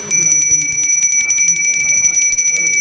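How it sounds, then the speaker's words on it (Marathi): A small prayer hand bell rings rapidly and continuously during aarti at a Ganesh puja, its bright metallic tone steady throughout, with voices chanting underneath. "तर घंटा वाजव."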